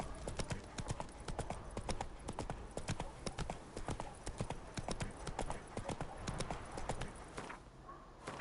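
Horse hooves clip-clop in a fast, even gallop rhythm while riding in The Witcher 3, loud and close, continuing almost the whole time before easing near the end.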